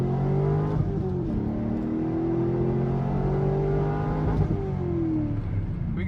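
A C5 Corvette launches in a straight line with traction control on, its engine revving loud and close, pitch climbing through two gear changes as it bogs and pulls away.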